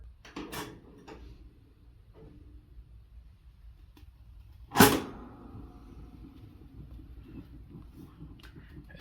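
A kerosene heater's door clicks shut with a few soft knocks, then a single sharp, loud burst from the auto-start ignition, followed by a low hum under quiet room noise.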